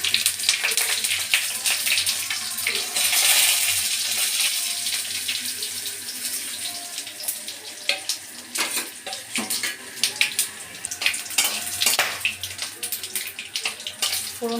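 Whole cumin, dried red chillies and bay leaves sizzle in hot mustard oil, a steady close hiss that grows into scattered sharp crackles and spits.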